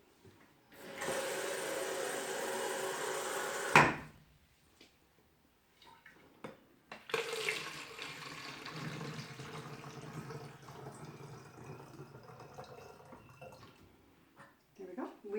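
Water is poured through a funnel into a small container, a steady, fairly loud rushing stream lasting about three seconds, followed later by quieter splashing and handling sounds with a person talking.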